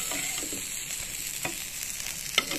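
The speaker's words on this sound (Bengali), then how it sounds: "অল্প তেল দিয়ে বেগুনটা ভাজা হলে ভালো হয়" Eggplant slices fry in a pan with just a little oil, giving a steady close hiss of sizzling broken by a few light scraping and stirring clicks.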